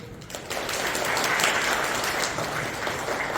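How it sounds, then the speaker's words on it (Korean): An audience at a library camping lecture applauds to welcome the instructor, a steady, even wash of many hands clapping at moderate volume throughout. "저희 캠퍼 이현우 강사님을 큰 박수로 맞이해주시면 감사하겠습니다"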